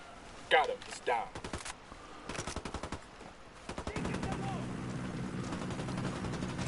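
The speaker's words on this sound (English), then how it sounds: "That sounds like another minigun." Rapid bursts of minigun fire in the video game Ghost Recon Wildlands rattle close and loud, then settle into a sustained, dense stream of shots, with game voices briefly mixed in.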